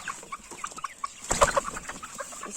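Chickens clucking in a henhouse, with a flurry of short close clucks and a louder burst midway, a few birds calling at once.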